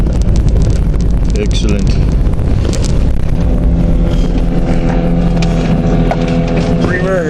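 A Jeep drives in second gear with a continuous engine rumble, wind buffeting and rattles, as someone speaks briefly over the noise.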